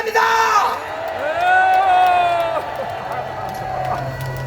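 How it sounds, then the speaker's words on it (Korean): Cheering and whooping rise from a large outdoor rally crowd at a Liberation Day gathering in Gwanghwamun, Seoul, with voices swelling and fading over a few seconds. "목사님께 뜨거운 함성을 보내주시기 바랍니다"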